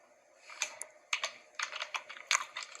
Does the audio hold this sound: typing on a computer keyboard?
yes